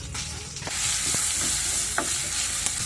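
Ginger paste, garlic paste and chopped onion fry in hot oil with cloves and peppercorns for a broken-rice pulao, a steady close sizzle broken by occasional scraping stirs of a spoon.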